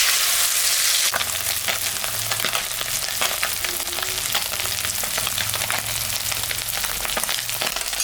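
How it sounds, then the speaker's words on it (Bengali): Salted, turmeric-rubbed fish dropped into hot oil in a wok, bright hiss at first giving way to a steady loud sizzle with dense crackling pops throughout. "এখন আমি মাছটা ভাজবো। তেল গরম হয়ে গেছে।"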